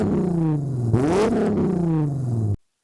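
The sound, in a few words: VW VR6 engine revving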